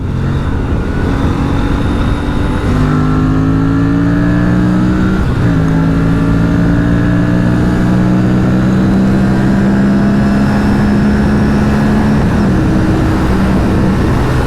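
An Aprilia RS 457 twin-cylinder motorcycle accelerates hard through quick gear shifts, its loud engine note climbing in pitch, dropping at each shift and rising again, continuous and close with no talk.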